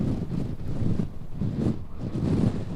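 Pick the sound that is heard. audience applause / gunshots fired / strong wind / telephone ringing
strong wind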